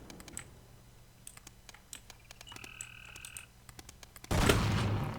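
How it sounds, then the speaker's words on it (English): A computer mouse knocks against a keyboard in a quiet room, making a few sharp, close clicks and thumps, followed by a sudden loud noisy burst near the end. "I don't know if you heard my mouse slamming off my keyboard."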